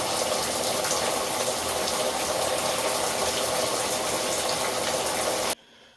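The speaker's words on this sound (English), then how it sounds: "So now we let this fill, let it soak for a bit" Water gushing loudly and steadily from a tap as a basin fills to soak the washed parts of a Bissell PowerForce 3537 vacuum, stopping abruptly near the end.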